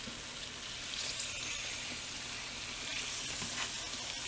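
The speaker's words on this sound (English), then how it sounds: "both of them are frying beautifully" Sweet coconut empanadas frying in hot oil, a soft, even hiss of bubbling oil with a faint pop near the start.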